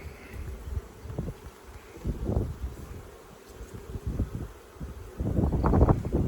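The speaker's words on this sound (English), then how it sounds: "Looks like we got some nice bees going on here" Honey bees buzz around an opened hive during an inspection, a dense swarm hum that swells and fades in bursts against gusts of wind on the microphone.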